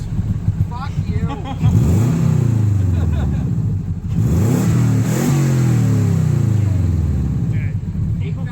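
Toyota Corolla with a JDM six-speed swap, its engine revved hard twice toward 8,000 RPM, each sweep rising as a loud, close snarl before dropping off, with voices underneath.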